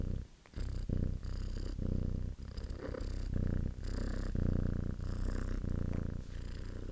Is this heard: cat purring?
yes